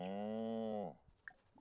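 A cowplant in the video game The Sims 4 gives one long, loud, droning moo lasting under a second, followed by faint scattered game sounds.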